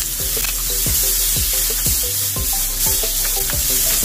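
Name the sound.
tomato being stirred and sizzling in a frying pan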